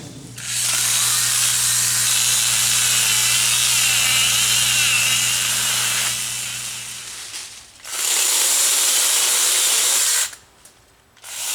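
A small chainsaw cutting a branch buzzes steadily at high pitch, cutting out briefly twice before restarting, loud and close with no talking.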